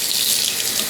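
Tap water runs steadily into a sink while a scrubbed pan is rinsed, a continuous close hiss and splash with no talking.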